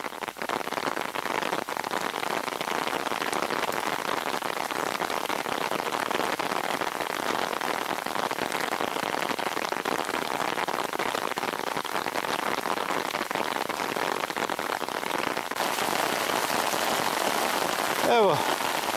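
Rain pours in a forest during a mountain hike, a dense, even hiss of drops on leaves and ground lasting throughout, with faint talk beneath and a brief rustle near the end.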